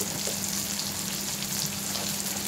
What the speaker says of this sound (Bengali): যাতে টমেটোটা আর পেঁয়াজটা নরম হয়ে যায়, তাড়াতাড়ি ভাজা হয়ে যায়